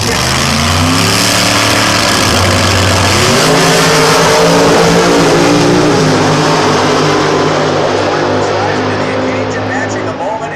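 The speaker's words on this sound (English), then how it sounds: "The 769 cubic inch nitrous engine for Stanfield, dial 631" A 769 cubic inch nitrous drag racing engine roars at full throttle down a strip at an NHRA event in Bristol, Tennessee, loud and continuous with rising revs, while an announcer talks over it.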